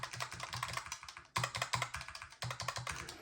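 Arcade controller buttons with louder caps pressed in fast bursts, sharp plasticky clicks in quick rhythmic runs with short pauses between them, close up and alone.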